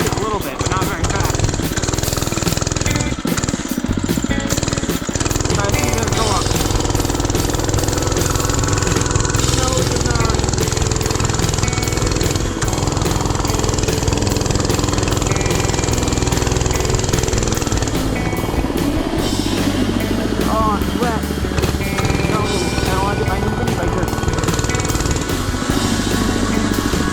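Budget mini bike engine revving hard under load while climbing a small hill, a steady loud buzzing drone that holds throughout with slight pitch shifts, close to the rider.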